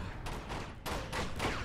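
Enemy gunfire in the video game Uncharted 2, a train-car firefight: repeated bursts of automatic shots, loud and close, in quick succession with brief gaps between volleys.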